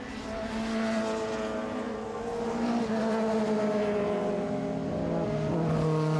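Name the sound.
race car on the straight at Lakeside Park Raceway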